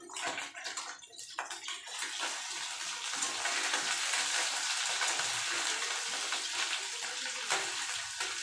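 Small mourala fish frying in a pan after being turned over, a dense, rushing sizzle that builds within the first few seconds and then stays loud and steady, with no voices.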